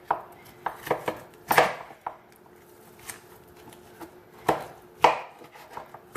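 A knife chopping through cooked lemon pepper barbecue ribs on a board, sharp irregular thuds in small clusters with pauses between, close and fairly loud, no talking.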